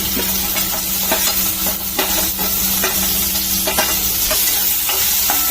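Onion and tomato frying and being stirred in a pan for prawn masala, a loud continuous sizzle broken by repeated scraping spatula strokes, close up with no talk.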